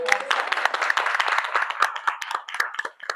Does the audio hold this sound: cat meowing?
no